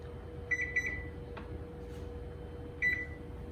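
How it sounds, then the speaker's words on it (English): Kitchen timer being set for macaroni: two short bursts of quick electronic beeps about two seconds apart, with a faint steady hum underneath. "I'm gonna set a timer."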